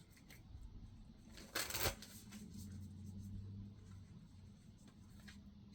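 Moonology oracle cards are shuffled quietly in a short, soft riffling burst that rises briefly above a low background hum, then fades back to near silence.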